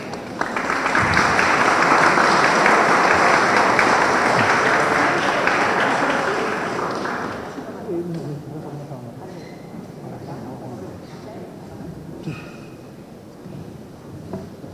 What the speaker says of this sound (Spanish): Lo despedimos con fuertes palmas, por favor.